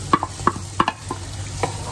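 Onion for kare kare sautés in a pan with a soft background sizzle, broken by several quick scraping stir strokes from a spatula.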